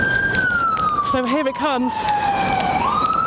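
A siren wails steadily in the distance, its tone gliding slowly, while someone speaks briefly over it.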